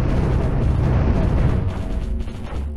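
Spaceship weapons fire in the Cosmoteer video game, a loud continuous barrage of rumbling booms and blasts that crowd together without pause, easing slightly toward the end.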